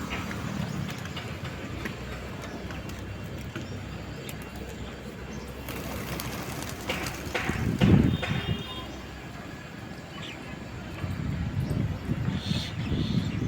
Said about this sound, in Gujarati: ખુલ્લા મેદાનમાં ઘણા બધા કબૂતર આવેલ છે।